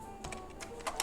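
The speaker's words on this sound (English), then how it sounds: "Let me type it here." Typing on a computer keyboard during a live forex market review, with a few distinct key clicks and soft taps close by, spaced irregularly across a quiet second.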